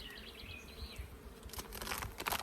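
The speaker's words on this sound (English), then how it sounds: "Full of bees." Bees buzz around a packed, full hive frame outdoors in fine weather, a faint steady drone with some rustling and crackling growing louder near the end.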